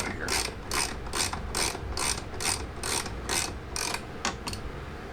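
A ratchet wrench clicks in steady repeated bursts while backing out the top bolt of a Goldstrike tie-down bracket on a 2019 Honda Goldwing DCT Tour, about a dozen sharp ratcheting strokes up close with no talk.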